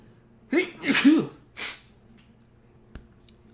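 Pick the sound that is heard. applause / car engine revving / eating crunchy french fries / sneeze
sneeze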